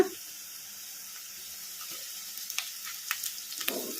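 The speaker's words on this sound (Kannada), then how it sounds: "ಉಳ್ಳಾಗಡ್ಡಿ ಲೈಟ್ ಬ್ರೌನ್ ಕಲರ್ ಬರೋವರೆಗೂ ಫ್ರೈ ಮಾಡ್ಕೊಂಡ್ಬಿಡೋಣ" Sliced onions with green chillies and curry leaves fry in a pan for gobi fried rice, giving a steady hiss of sizzling oil with scattered crackles and pops that grow busier toward the end, heard close up with no talking.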